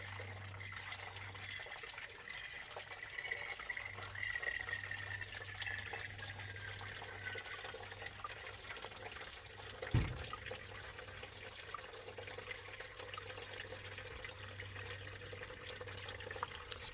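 Diesel exhaust fluid trickles and gurgles steadily into the DEF reservoir of a 2011 BMW X5 xDrive 35d during a refill, a continuous low liquid flow with one brief knock near the middle and no talking.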